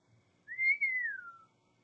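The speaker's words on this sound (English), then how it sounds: "Harry let out a low whistle" A person whistles one short gliding note that rises slightly and then slides down, close and fairly soft against near silence.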